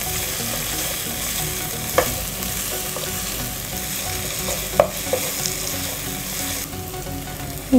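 Ginger and garlic sautéing in a pan for a tapioca biriyani, a loud steady sizzle with stirring and a few sharp knocks of the spoon against the pan.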